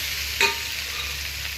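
Tomatoes stirred into frying vegetables in a pan for mixed vegetable rice, a steady close sizzle with one brief scrape of a spoon, no voices.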